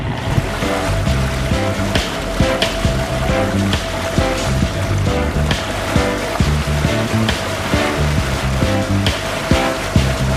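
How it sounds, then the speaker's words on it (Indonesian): A ship's engine drones loudly and steadily with a rhythmic throb, water churning beneath it as the vessel docks at Mentok harbour, Bangka Island. "kapal kita baru saja merapat di Pelabuhan Mentok"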